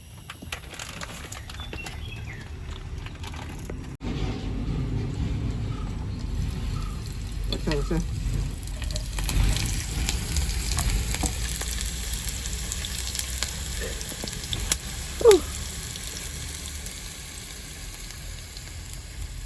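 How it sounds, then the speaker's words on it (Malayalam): Oil heats and sizzles in a pan at a riverside camp beside a small camper bicycle, a steady faint frying hiss under outdoor noise, with a few clinks and a sharp knock near the end. "എണ്ണ തിളച്ച് വരട്ടെ"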